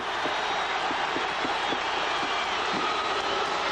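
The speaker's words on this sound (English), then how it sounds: "Listen to this crowd." Football stadium crowd at the 1982 Rose Bowl, Washington against Iowa, a massive continuous roar of cheering that stays loud and unbroken, with faint thumps beneath it.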